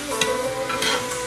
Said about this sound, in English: And we're gonna let that simmer.